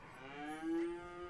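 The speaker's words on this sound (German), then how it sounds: "Und die Kuh auch, die gerade gegähnt hat." Cartoonish cow moo from a video game, a single drawn-out low bellow lasting about a second, clear and moderately loud with no talk over it.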